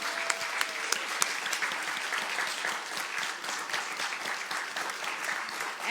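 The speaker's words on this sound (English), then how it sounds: "If you want to give them a round of applause." A congregation applauds new members being welcomed into the church at a Sunday celebration service. The clapping is steady and fairly soft, with a few sharper claps standing out near the start.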